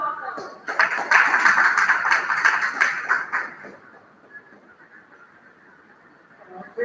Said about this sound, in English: Please give a round of applause for sir.